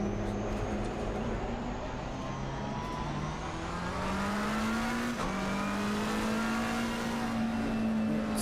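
A McLaren GT race car in Assetto Corsa Competizione drones steadily around the track, its engine note rising and falling through gears with a continuous, close, moderately loud whine.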